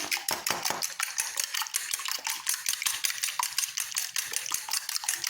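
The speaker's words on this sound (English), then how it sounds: "I'm going to be whisking my egg together." A whisk beats an egg in a bowl for fish roll batter, giving a fast, steady run of close clicking and scraping strokes that continues throughout with no voices.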